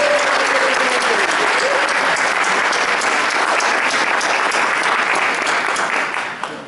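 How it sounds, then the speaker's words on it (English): A large audience gives loud, sustained applause for students at a youth-in-government event, dense clapping close and steady before tapering slightly at the end, with faint voices underneath. "how about a round of applause for all our students?"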